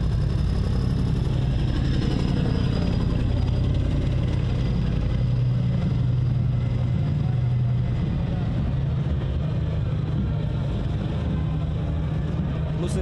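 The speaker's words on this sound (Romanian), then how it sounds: "Avem în continuare tancurile TR-85M1, care chiar acum trec pe sub Arcul de Triumf." Diesel engines of TR-85M1 tanks rumble past at a military parade under the Arc de Triomphe, a steady heavy low drone that stays loud and close throughout with crowd noise underneath.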